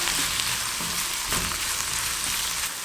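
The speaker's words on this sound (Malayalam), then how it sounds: "തക്കാളി ചേർത്ത് ഒരു 3-4 മിനിറ്റ് ഒന്ന് വഴറ്റണം." Tomatoes sauté in a pan for a vegetable sabzi, giving a dense, even sizzle that hisses continuously at close range with no talking.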